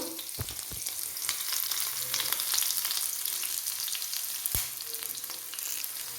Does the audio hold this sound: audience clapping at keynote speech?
no